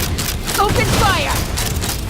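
A dense, continuous barrage of video game gunfire roars steadily at close range, with faint whistling tones and a voice briefly audible through the noise.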